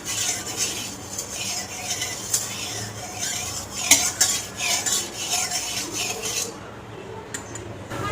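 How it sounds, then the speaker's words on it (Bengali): Omelettes with onion and salt cooking in hot oil in a kadai on a gas stove: steady scraping and stirring of a utensil against the pan, with light clinks and a soft sizzle throughout, close by. "পেঁয়াজ আর নুন দিয়ে অমলেটগুলো করে নেব"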